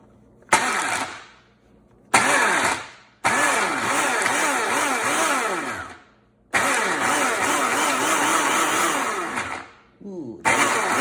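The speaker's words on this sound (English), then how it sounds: "So now I'm gonna put this on top of my blender." A blender grinds nuts for pesto in loud, roaring bursts with whirring pitch sweeps, stopping and restarting several times with short quiet gaps between pulses.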